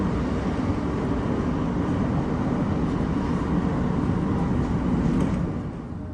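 A heritage train runs at a rail museum, giving a steady, loud, broadband rumble and rattle of carriage and track noise that continues throughout and eases slightly at the end.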